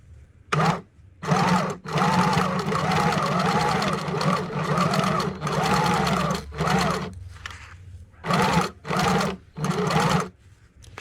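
A sewing machine embroiders around the edge of knitted fabric with paper towel underneath, whirring in several steady bursts of rapid stitching separated by short pauses, close and clear.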